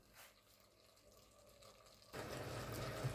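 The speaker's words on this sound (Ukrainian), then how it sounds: "Тепер я сюди вливаю водичку, в якій грибочки варилися, вливаю її всю сюди." Mushroom cooking water poured into a soup pot of potatoes, a soft steady liquid rush that turns fuller and louder partway through, with no talking.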